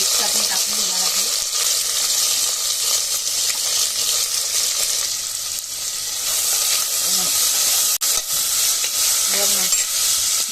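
Garlic, curry leaves, chili, tomato and onion frying together in a pan with mustard seeds, a loud continuous hissing sizzle that fills the whole stretch, with faint voice fragments underneath.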